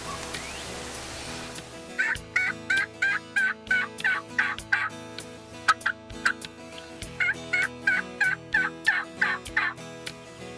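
Wild turkeys gobble repeatedly in the woods, close and loud, in rapid rattling bursts that come in two long runs with short gaps between them.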